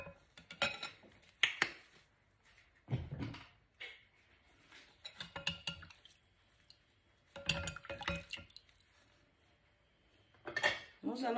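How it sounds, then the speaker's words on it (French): A spoon stirs a homemade shampoo mixture with added honey in a bowl, making intermittent bursts of clinking and scraping against the dish, separated by quiet pauses. "Nous allons encore bien mélanger."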